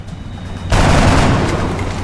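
A sudden loud burst of gunfire from the turn-based strategy game XCOM Enemy Within breaks in after a quiet stretch, a dense crackling volley that sustains to the end.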